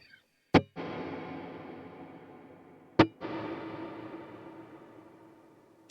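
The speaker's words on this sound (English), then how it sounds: "And here's the reverb tone I like" Two strummed electric guitar chords, each ringing out long with a washy reverb tail that slowly fades; quiet and alone.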